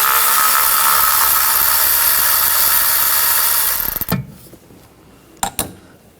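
A power tool fitted with an 8mm socket spins a valve cover bolt out of a 2013-2019 Ford Escape 2.0L four-cylinder engine. It gives a loud, steady whir for about four seconds, then stops, leaving a few sharp clicks and no talk.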